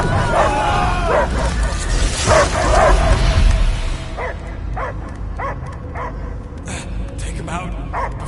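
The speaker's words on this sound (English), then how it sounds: "I hear only barking." A possessed dog's barking and whimpering in the Guardians of the Galaxy video game, sounding as yips and barks mixed into dense game audio with a voice talking over it throughout.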